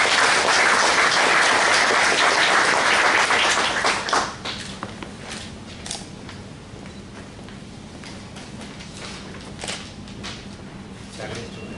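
A seated audience breaks into dense, loud applause for a speaker at a formal function, the clapping holding strong for about four seconds before thinning to scattered claps and quieter room noise.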